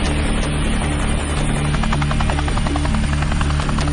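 A Navy Seahawk helicopter flies overhead at sea, its rotor producing a loud, steady chopping drone that dominates throughout with a constant low thrum.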